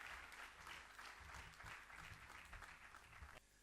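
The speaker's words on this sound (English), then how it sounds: "Let's welcome Anand on stage with a huge round of applause, please." Conference audience applauds a keynote speaker at a 2015 testing industry event, a continuous, fairly dense burst of clapping at moderate distance that cuts off abruptly near the end.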